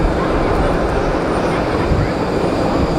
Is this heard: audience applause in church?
no